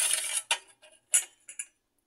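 Mango pieces are mixed with salt by hand for pickle in a kitchen, giving a short run of close, crisp clicks and wet clatters in uneven bursts, then fading to quiet.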